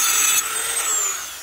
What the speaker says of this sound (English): So we're going to take this Dremel.